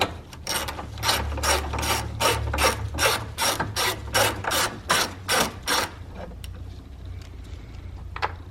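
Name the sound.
bolt being undone on a Toyota Highlander battery bracket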